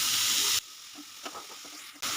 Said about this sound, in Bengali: ঘিটা গরম হলে এখানে দিয়ে দিয়েছি আমি গ্রেট করে নেওয়া